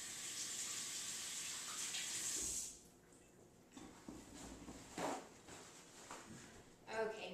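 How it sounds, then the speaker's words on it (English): Tap water runs loudly and steadily for a few seconds while hands are washed, then cuts off, followed by quieter handling sounds and a brief splash near the end. "Wash my hands up real quick."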